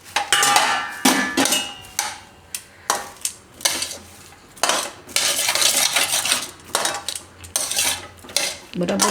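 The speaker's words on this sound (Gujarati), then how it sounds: "બરાબર મિક્સ કરી દેવાનું આ રીતે એને." A utensil scrapes and clatters against a pan as a puffed-rice ladoo mixture is stirred, with irregular bursts of metallic scraping and brief pauses, close and fairly loud, no voices.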